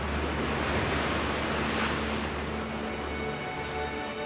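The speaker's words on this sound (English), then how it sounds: "The seas around the north coast of Scotland are some of the strongest waves and tides in the world." Strong ocean surf breaks off the north coast of Scotland, a steady loud roar of waves with wind buffeting the microphone and no voices.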